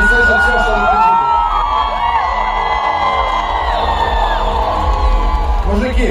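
A large festival crowd in heavy rain at an outdoor concert in St Petersburg shouts, whoops and cheers continuously, a dense roar of many voices close and loud throughout.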